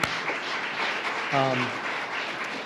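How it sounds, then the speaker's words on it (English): Applause for a safety team during an event announcing goals for 2026, heard as a soft, steady wash of clapping with a brief voice rising over it midway. "That deserves a round of applause, by the way, for our safety team."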